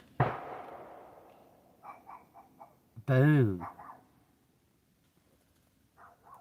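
A dog barks a few times nearby, with a sharp thud at the start and one loud bark-like burst in the middle, followed by fainter short yelps trailing off in an otherwise quiet room.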